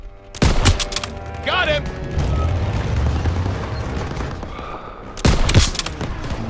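Gunfire in a World War II street battle in Call of Duty: WWII, with heavy bursts at the start and end and steady battle noise between. A voice shouts over the shooting.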